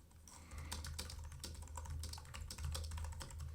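Someone typing code on a computer keyboard, a quick, uneven run of soft key clicks that continues without a break, close by and quiet, against a low background hum.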